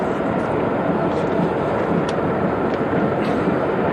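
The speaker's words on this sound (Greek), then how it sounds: "Το χαρακτηριστικό Chinook με τους 2 έλικες, εξαιρετικό μεταφορικό μέσο" Steady, loud rotor roar of military helicopters, including a twin-rotor Chinook, NH-90s and a Huey, passing overhead at a Greek military parade, a broad continuous rumble that fills the whole clip without pause.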